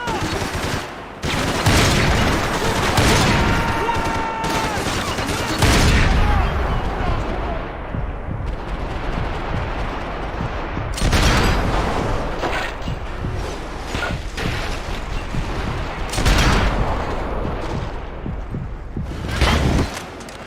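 Gunfire from the video game Max Payne 3 runs loud and almost continuous, with rapid bursts of shots and booming blasts layered densely for about twenty seconds.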